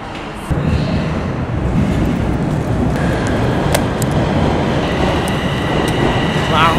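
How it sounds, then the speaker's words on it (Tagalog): A commuter train in Canada pulls into the station with a loud, steady rumble of rolling wheels and carriages, close by, with faint high squeals above the roar. "Sasakay na tayo ng train, man."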